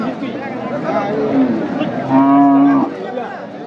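A beef cow moos loudly and long, nearby, over a busy cattle market hubbub of background voices at Bosunia haat.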